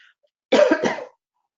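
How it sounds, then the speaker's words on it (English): A single short cough, close and clear, in an otherwise quiet room. "Sorry about the cough."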